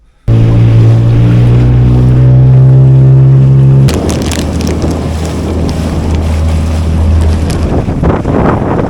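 A small fishing boat heads out at sea on a windy morning to search for cuttlefish; a loud, steady engine drone runs throughout, then gives way to heavy wind buffeting and rushing water.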